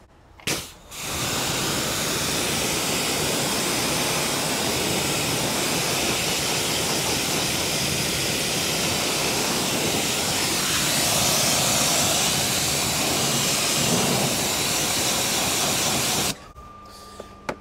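A Kärcher pressure washer rinses a car tyre, its loud, steady high-pressure hiss of spray running unbroken for about fifteen seconds before cutting off abruptly.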